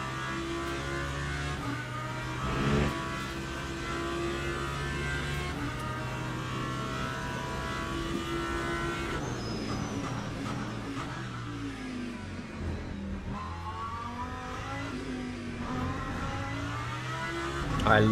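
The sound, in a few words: Lamborghini race car engine in Le Mans Ultimate video game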